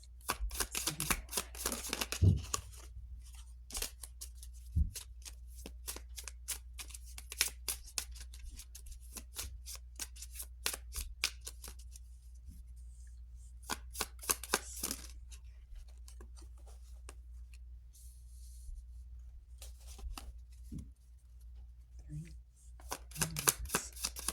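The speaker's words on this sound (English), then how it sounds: "these cards are flying out right now" Tarot cards are shuffled rapidly and close up, making dense runs of crisp flicking and riffling clicks with a few short pauses across a long stretch.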